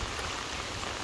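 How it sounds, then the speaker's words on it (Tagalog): Heavy rain pours down steadily during a storm in Camarines Sur, a dense, continuous hiss of drops striking surfaces close by with no letup. "Medyo maulan, malakas ang ulan"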